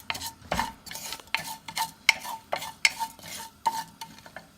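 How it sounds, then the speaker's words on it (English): A spoon scrapes rhythmically through urad dal, cumin and mustard seeds sautéing in a pan for upma, about ten quick, even strokes close up with faint metallic clinks and no talking. "And we'll try to saute it a little bit for a minute or two"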